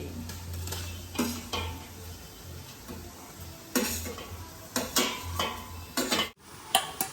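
Onions drop into a hot pan of oil and garlic for pav bhaji, giving a steady close sizzle with several sharp clattering bursts of utensil stirring against the pan and no talk.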